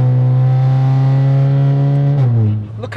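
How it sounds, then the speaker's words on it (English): A Volkswagen Scirocco's loud engine hums at a steady, strong pitch close by on a motorway, then the tone drops and shifts as it changes gear, with a brief rising surge at the end. "The engine is so unbelievably strong."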